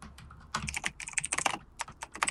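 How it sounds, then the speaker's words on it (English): Computer keyboard keys clacked rapidly during an online game match, a dense run of sharp typing clicks in irregular bursts, close and fairly loud, with no voices. "Sorry about the clacking noises."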